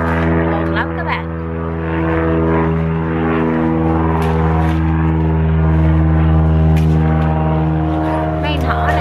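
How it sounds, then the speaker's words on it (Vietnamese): A propeller airplane drones overhead above a garden, a loud steady engine hum with strong tonal layers that holds for the whole stretch, slightly swelling toward the end. "Đã chưa gì chưa nói được mấy câu đã thấy máy bay bay rồi."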